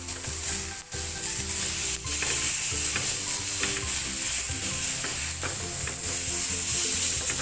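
Minced pork sizzling loudly in a hot pan, a dense continuous crackling hiss with stirring scrapes and occasional clinks, close up.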